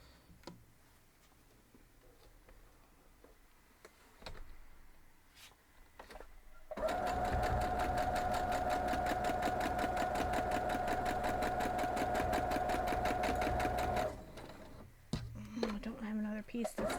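Sewing machine stitching pieces of a star quilt block, a steady loud whirring run of about seven seconds with a fast rhythmic needle tick, preceded and followed by quieter handling and talking.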